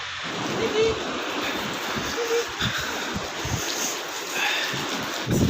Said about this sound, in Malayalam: കാരണം വെച്ചാൽ ഭയങ്കര കാറ്റാണ്